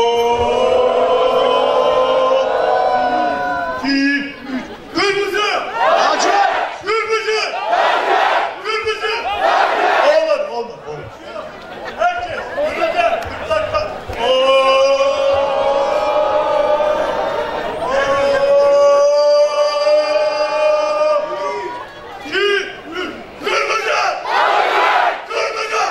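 Zonguldakspor football fans led by cheerleaders roar a red-navy call-and-response chant: a loud massed crowd shouting in repeated rhythmic bursts for the whole stretch, with an amplified voice leading at times.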